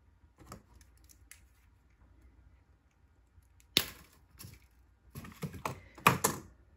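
18 gauge dead soft copper wire being cut for a wire-wrapped pendant: two sharp, close snips with faint handling clicks, separated by near silence.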